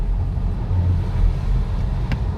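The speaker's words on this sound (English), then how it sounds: "so it is feeding some of the engine noise into the cabin" A steady low engine drone and road rumble inside the cabin of a 2019 Ford Focus ST with a manual gearbox, continuous and even throughout with no voices.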